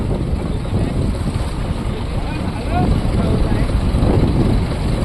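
Strong wind roars across open sea, blending with the wash of waves and a fishing boat's rumble; faint voices sound beneath it.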